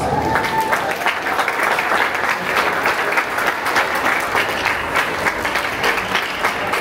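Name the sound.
audience applause at recognition ceremony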